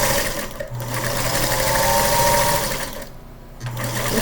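A sewing machine runs steadily while chain piecing quilt pieces for a holiday cardinal lap quilt, its motor whirring close and loud with a short pause near the end before it resumes.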